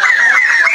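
A white-crested laughingthrush imported from Thailand, kept at a bird market kiosk, gives a loud, continuous, harsh nasal call close by, with no talking.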